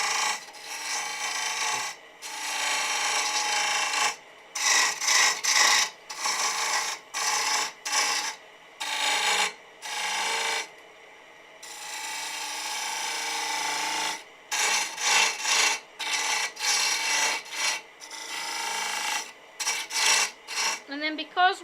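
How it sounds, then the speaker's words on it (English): A 1/4 inch bow gouge cuts into a spinning piece of timber on a wood lathe, giving repeated scraping, rasping bursts separated by short pauses while a toadstool house is shaped. "So I've gone back to the 1/4 inch bow gouge."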